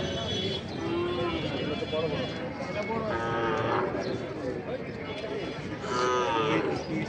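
Cattle at a rural cattle market moo repeatedly, several loud, drawn-out calls rising above a busy crowd of voices and general market noise.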